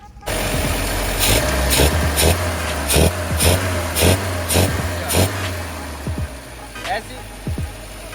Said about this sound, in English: The last thing you want to do is start the car up.